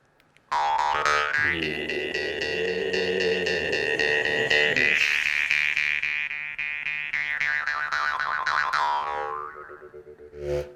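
A kubyz jaw harp twangs with a deep, droning low tone and shifting overtones, played alone and close, holding steady before fading at the end.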